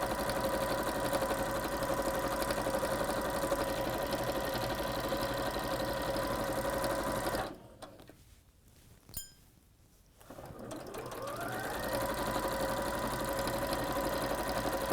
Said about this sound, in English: just a straight stitch all around the edge